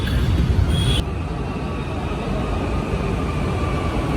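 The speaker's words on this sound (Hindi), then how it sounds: "हमारी मेट्रो तो आ गई।" A Mumbai metro train pulls into the station toward Andheri West, a loud steady rumbling roar of the carriages with a brief high tone at the start, close and continuous.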